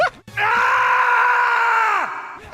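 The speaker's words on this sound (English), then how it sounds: "Matt, Ryan, would you mind playing that again, but jacking up the scream super loud" A loud, sustained high-pitched scream from an anime clip rings out for nearly two seconds after a brief gasp, then trails off with a falling pitch.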